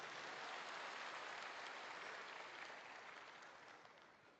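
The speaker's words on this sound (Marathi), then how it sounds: "एकदा सगळ्यांसाठी टाळ्या वाजवा म्हणजे मला पण कळेल सुरुवात करायची." A crowd at a political party rally in Mumbai claps in a loud, dense wash of applause that holds steady, then slowly thins and fades toward the end, with no speech over it.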